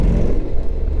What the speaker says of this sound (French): le bruit est pas mal pour un petit bicylindre avec le pot d'origine